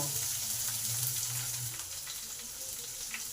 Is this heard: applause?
no